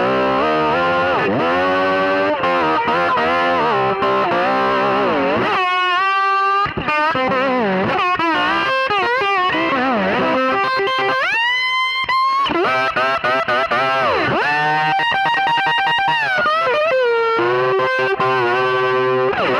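Distorted electric guitar, a Gibson '61 reissue SG on the bridge pickup through a Fender 1966 Vibrolux amp, plays a crunchy rock riff with bends and chords, loud and continuous, no voices.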